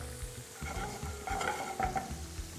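Chili and garlic fry in hot oil with a soft, steady sizzle, broken by occasional stirring scrapes in a pan, heard up close and faint, with no voices.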